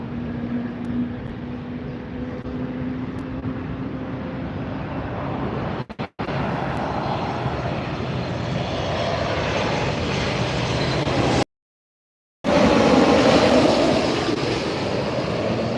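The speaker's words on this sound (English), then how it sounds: "I see a couple of planes taxiing up here." Jet airliners taxiing at LAX airport, a steady loud engine roar and whine filling the scene with a rising turbine tone near the end, heard live outdoors without talk.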